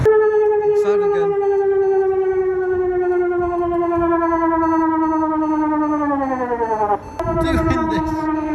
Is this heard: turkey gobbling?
no